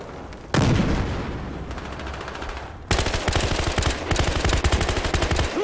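Automatic gunfire from the video game Battlefield Hardline, with rapid bursts of close, loud shots, a short pause, then a longer sustained rattling volley.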